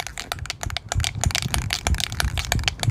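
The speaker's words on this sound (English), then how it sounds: "Make sure you give your cans a good shake" Duplicolor spray paint cans are shaken hard outdoors before dyeing cloth and vinyl car seats, giving a dense stream of rapid rattling clicks and hissy knocks, steady and close for the whole stretch with no talk.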